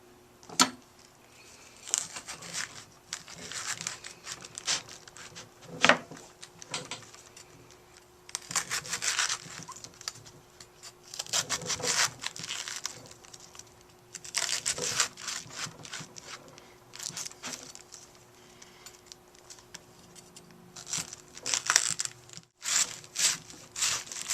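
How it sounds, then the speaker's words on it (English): A knife cuts the core out of a cabbage, giving intermittent scraping and rubbing sounds in short bursts spread over the clip, fairly quiet and close, with no talking. "we do that by taking out the core of the cabbage"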